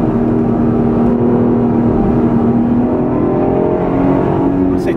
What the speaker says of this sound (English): That motorcycle's going for it.